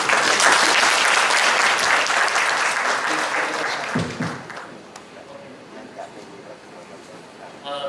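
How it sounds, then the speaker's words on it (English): Loud, dense audience applause for a panel at a 2015 international forum on work-integrated learning, sustained for several seconds before thinning out and fading away. "please allow me to give thanks to the panel with a round of applause for them."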